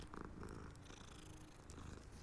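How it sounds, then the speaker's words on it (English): A cat purring in the video game Hogwarts Legacy, a steady close rumbling purr that runs throughout with soft game ambience behind it. "Look how cute the kitty cat is, and it's purring."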